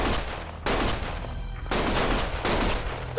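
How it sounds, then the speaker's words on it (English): Gunfire from the video game Lost Judgment, loud bursts of shots cutting in abruptly at intervals, each volley sustained and dense with a crackling, heavy tail, close and filling the scene without audible talk. "Stop shooting!"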